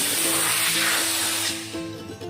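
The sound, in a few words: low-pressure spray cleaning an EFI engine air filter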